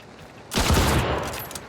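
A loud gunshot cracks out about half a second in during a match of the video game Hunt: Showdown, followed by a long, fading reverberant tail with no voices over it.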